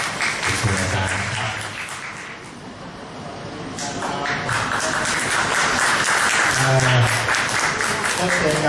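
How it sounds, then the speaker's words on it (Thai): An audience at a music recital claps for a teacher, with steady crowd applause running the whole stretch and voices talking over it. "ขอเสียงปรบมือให้อาจารย์นิคมสุวรรณด้วยนะครับ"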